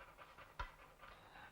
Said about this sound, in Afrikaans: Ben, sien jy daai hond?